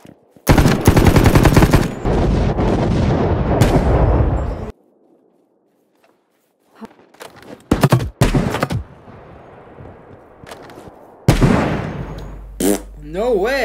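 Rapid bursts of automatic gunfire from an online shooter video game crackle loudly for about four seconds, then return as short sharp volleys after a quiet gap, with a voice talking over parts of it.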